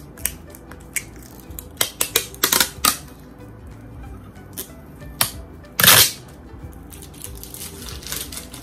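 Protective film is peeled off a clear phone case, giving a run of sharp crackling snaps and clicks, some in quick clusters and one longer rasping tear, close up and otherwise quiet.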